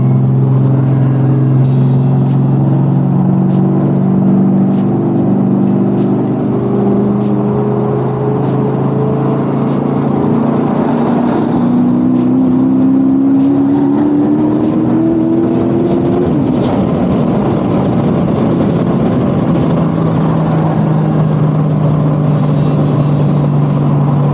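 Turbocharged Dodge SRT8 Challenger engine revving in a neighborhood, a loud steady drone with rising pitch sweeps as it accelerates, then settling back to a lower hum, continuous and close throughout.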